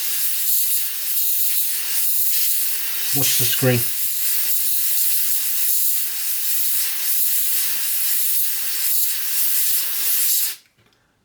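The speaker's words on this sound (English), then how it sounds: "Compressed air, cold air." Compressed cold air sprays in a long, loud continuous hiss onto an Amiga 500plus board, running nearly the whole time before cutting off abruptly, with a brief spoken phrase partway through.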